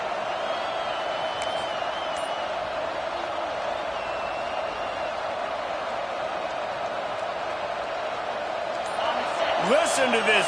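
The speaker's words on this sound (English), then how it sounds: "Listen to this crowd just shaking the girders of this place, trying to help their defense." A stadium crowd in the Madden football video game roars steadily and loudly throughout, swelling with extra cheers near the end.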